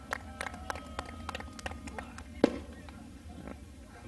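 Fireworks go off at a raceway celebration after a 2012 track championship race win at Mohawk International Raceway, scattered distant pops and crackles at irregular intervals with one sharper bang, over a low background rumble.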